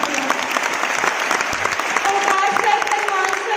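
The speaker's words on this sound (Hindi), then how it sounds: "एक बार जोरदार क्लैपिंग चाहती हूँ" An audience claps loudly and steadily at a business success day event in Ludhiana, the applause filling the room with a continuous rattling wash.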